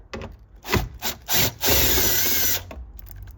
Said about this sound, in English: Now we're going to take our 10mm socket, switch it over, take out this one bolt in here